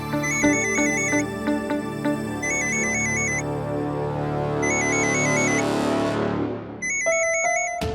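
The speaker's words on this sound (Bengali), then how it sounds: "যদি ফোনটা তুলতেই পারবি না তো ফোনটা সাইলেন্টে রাখ" A mobile phone ringtone plays a loud, close, repeating melodic beeping pattern in short bursts over a sustained backing tune that fades, then starts again.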